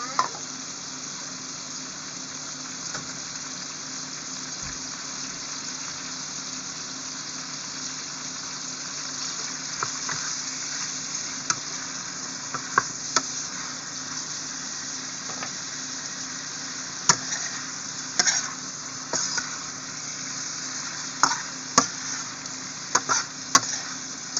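Shrimp sizzling and frying in a hot pan with garlic, a steady close crackle with scattered sharper pops and stirring clinks toward the end, no talking.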